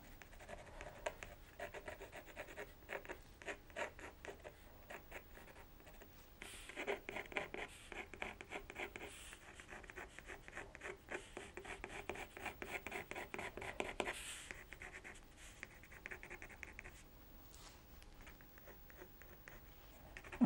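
Colored pencil strokes scratching and rubbing across paper while a portrait is being colored, a steady close scritching texture with short bursts of quicker, harder strokes and brief pauses, no voices.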